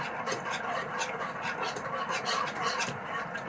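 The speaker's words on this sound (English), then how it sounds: "But you have to constantly whisk this." A whisk scrapes and swishes steadily through thickening mac and cheese sauce in a pot, a close, continuous rhythmic stirring with light metallic scratches and no talking.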